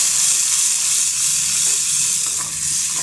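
Onions and tomato puree fry in a pan for a bitter gourd gravy, giving a loud, steady sizzle with faint stirring scrapes throughout and no voices.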